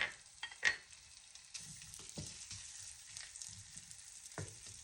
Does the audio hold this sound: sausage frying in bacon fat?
yes